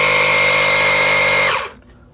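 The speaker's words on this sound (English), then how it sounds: "pressurizing the system with this little compressor" A small Milwaukee portable air compressor runs with a loud, steady motor whine while pressurizing an engine boost system for a leak test, then winds down and shuts off near the end.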